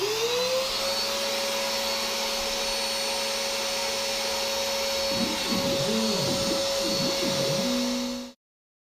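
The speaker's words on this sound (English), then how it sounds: "I'll start up the vacuum and try to keep it as clean as possible in here" A shop vacuum drones steadily and loudly beside an OpenBuilds C-Beam CNC router during a cut, with the spindle's tone wavering over the steady roar before it abruptly cuts off.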